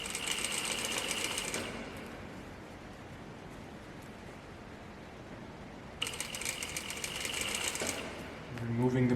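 A sewing machine stitches a seam on a pair of pants in two loud, close bursts, with a quieter pause between them.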